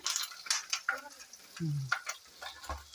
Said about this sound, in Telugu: ఇప్పుడు పచ్చిమిర్చి వేగే కదండి